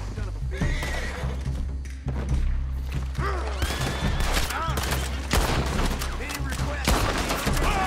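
Gunfire in the video game Red Dead Redemption 2 cracks in repeated volleys amid horses neighing and hooves clopping, loud and chaotic with thumps, and a voice shouting through the fight.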